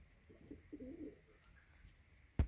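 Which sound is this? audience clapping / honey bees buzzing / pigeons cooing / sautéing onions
pigeons cooing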